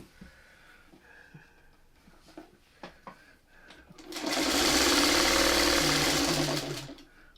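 A sewing machine stitches quilt pieces for a candy striper pattern, a steady loud whir running about three seconds after a stretch of quiet handling and faint talk.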